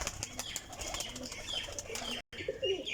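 A flying pigeon is released and flaps its wings in a quick, close fluttering burst, followed by soft chirps in an otherwise quiet outdoor setting with no talk.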